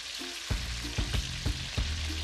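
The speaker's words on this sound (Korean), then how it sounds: "양념이 다 된 만세기는 기름에 넣고 튀기는데요" Continuous crackling sizzle of seasoned mahi-mahi deep-frying in hot oil in Chennai, India, with a few soft rhythmic thumps as pieces are stirred or moved.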